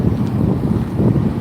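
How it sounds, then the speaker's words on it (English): Gusty wind buffeting the microphone at Texas Motor Speedway, a continuous low rumbling roar filling the brief moment. "It is getting windy here, I will say that."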